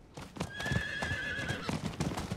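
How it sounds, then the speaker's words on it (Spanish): A horse in the Diablo IV: Vessel of Hatred game lets out a clear neigh while its hooves clip-clop in a quick, close rhythm, with no talk over it. "Vale, vamos a pillar un caballo en condiciones."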